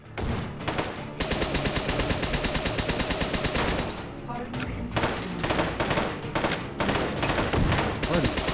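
Needle gun firing repeatedly in the VR shooter Hot Dogs, Horseshoes & Hand Grenades, a dense, loud, continuous stream of rapid shots in long bursts with a brief break midway.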